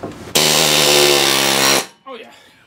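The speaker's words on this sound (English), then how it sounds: "I'm just going to try and take my air hammer and see if I can" An air hammer works a stuck nut on a Yamaha or Tohatsu outboard motor, a loud continuous pneumatic buzz lasting over a second before cutting off, then a faint clatter.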